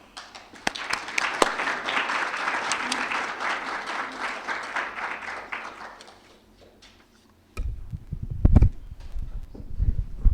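Audience at a Holocaust education conference applauding to welcome a panel, steady full applause for about six seconds that fades, followed by close thumps and rustling as people settle.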